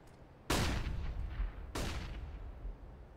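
Two loud, sharp gunshot bursts ring out in a Counter-Strike match on the map Cache, each trailing off in a long decaying echo, with no talk over them.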